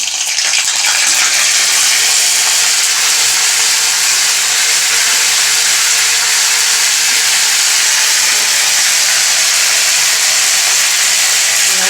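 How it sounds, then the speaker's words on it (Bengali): Ginger paste hitting hot oil in a pan, a loud, steady, close spattering hiss that holds unbroken throughout, with no voices. "তেল দিয়ে দিয়েছি আদা দিয়ে দেবো ছিটকাবে"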